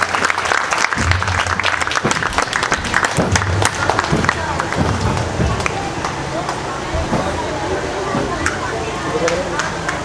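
An audience at a Independence Day celebration and prize-giving ceremony applauds for Sir Yakub, with sustained dense clapping and crowd murmur throughout, loud and close.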